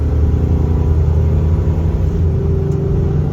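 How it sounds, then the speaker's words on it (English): A 7.3 liter gas Godzilla motorhome climbs a hill at about half throttle, its engine giving a steady, loud, close rumble with a sustained drone and no talk. "I wanted to show what it looked like to accelerate with one of these things"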